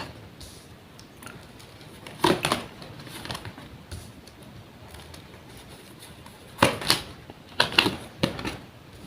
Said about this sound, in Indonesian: Saya rapikan dulu sisa kartunya Virgo.